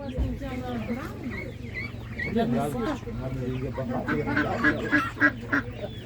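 Ducks quack at a busy village animal market where poultry such as geese and chickens are sold, a dense overlapping chorus of calls close by, mixed with people talking throughout.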